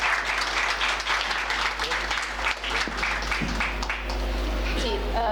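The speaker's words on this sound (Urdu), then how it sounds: "اس کا اظہار الفاظ کے ساتھ ساتھ تالیوں کی صورت میں بھی کیا جانا چاہیے" Audience applause at an Urdu mushaira in Sialkot, a steady round of clapping with a low hum beneath and faint voices mixed in near the end.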